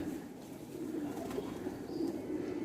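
Low, soft cooing of purebred pigeons runs steadily throughout, a continuous murmuring drone with a faint high chirp near the end.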